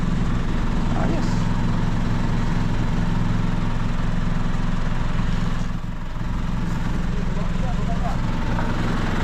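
A vehicle engine idles steadily while warming up, a continuous low rumble that runs loud and unbroken through the whole stretch, with people talking over it.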